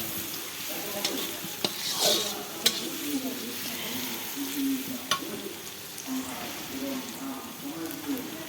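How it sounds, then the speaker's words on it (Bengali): Sliced onions fry in oil until deep golden for beef biryani, a continuous close sizzle broken by spatula scrapes and small clicks against the pan. "তো আমি পেঁয়াজ ভাজি নেব লাল লাল করিয়া।"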